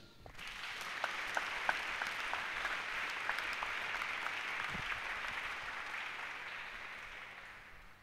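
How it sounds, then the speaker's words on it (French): Church congregation applauding steadily throughout, a dense continuous clapping that swells in early and fades slightly toward the end, with a few sharper claps standing out. "Acclamons Jésus"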